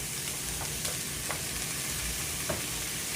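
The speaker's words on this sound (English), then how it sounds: "I'm going to put some onions and green peppers in here" Diced green pepper and sweet Vidalia onion sizzle in garlic and olive oil with a constant, close hiss and occasional faint stirring ticks.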